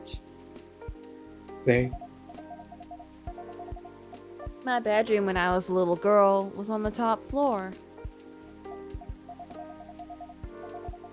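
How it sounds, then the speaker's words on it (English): Steady rain falls in the video game Coffee Talk 2, a soft continuous patter under a gentle musical background, while someone speaks over it at moderate volume. "I wish it would stop raining in Seattle."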